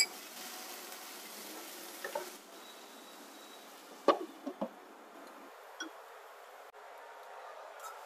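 Carrots and potatoes fry in a pan, making a soft, steady sizzle with a few light clicks and taps from a utensil, quiet and without voices.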